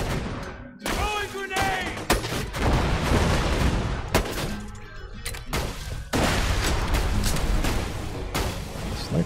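In Borderlands 2, a grenade is thrown and explodes amid heavy gunfire, with repeated loud booms and bursts of shots running throughout the fight and no clear talking.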